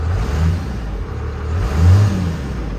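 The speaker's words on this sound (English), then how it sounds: "Give it a little rev." A pre-1997 diesel truck engine revs close by, a deep, loud rumble that swells twice over a few seconds and rises to a peak near the end.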